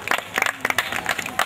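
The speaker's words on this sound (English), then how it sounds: "Just clapping." Scattered hand claps from a small audience at an academic debate gathering, a handful of sharp, irregular bursts close by over about a second and a half, with no one talking.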